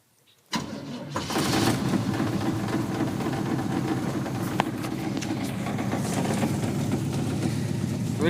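A 1950 Plymouth Deluxe four-door with a 350 V8 cranks and fires on the first try in cold weather, then settles into a steady, loud, close idle that runs without a break.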